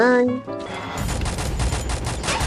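M4A1 rifle fire in a shooter video game, a rapid, loud burst of automatic shots that follows a brief tonal game sound.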